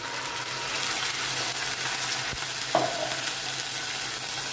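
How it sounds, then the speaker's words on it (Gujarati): Crushed onion and tomato go into a hot pan with garlic for Gujarati-style rajma, raising a continuous frying sizzle with a single brief clatter of stirring near the middle. "હવે એમાં આપણે 1 ડુંગળી અને 1 મોટું ટામેટું એને આ રીતે ક્રશ કરી લીધા છે, એ આપણે એડ કરી દઈશું"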